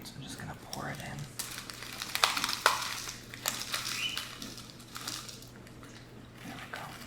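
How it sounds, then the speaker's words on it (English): Granola bits being poured into berry yogurt for a parfait, giving close, crunchy rattling and crushing sounds in uneven bursts over a low steady hum. "So I poured in the granola bits."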